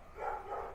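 One muffled bark from a dog nearby, slightly drawn out, followed by a softer second bark as it trails off.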